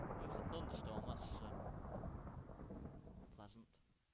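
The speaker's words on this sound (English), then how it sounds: "There's a thunderstorm," A thunderstorm in a Minecraft-style game: a heavy, continuous rumble of thunder and rain, loud at first and then fading toward the end, with no voices over it.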